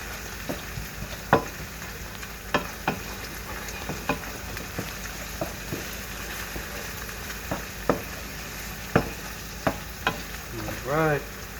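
Onions fry in a pan for fish fried rice under a constant sizzle, with periodic spatula scrapes and clicks against the pan at an unhurried pace.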